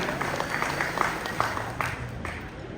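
A crowd at a live stage show claps in a short burst of applause for a performer, with scattered individual claps over a steady wash of hands.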